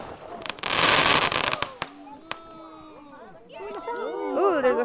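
Family fireworks go off outdoors: a loud crackling burst, then a few sharp bangs and whistling fizzes, with people chattering and exclaiming in between.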